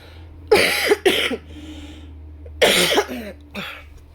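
Two bursts of harsh coughing, each a pair of quick, close coughs, separated by a short pause.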